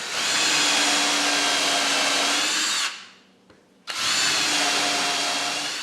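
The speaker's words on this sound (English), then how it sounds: "It's a drill bit that also has a countersink attached to it, so you can just countersink screws in one step." A power drill fitted with a countersink drill bit whirs steadily and loudly while boring into wood for a stitching pony, stops for about a second, then spins up again.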